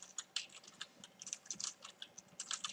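Light, quick typing on a computer keyboard during a Roll20 tabletop game setup, soft and close, with irregular key clicks and no voices.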